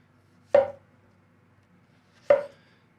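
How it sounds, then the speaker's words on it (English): A Moritaka Hamono gyuto knife slicing through a tomato onto a board, two crisp separate chops about two seconds apart over a faint background hum. "we'll start cutting up with the Gyuto"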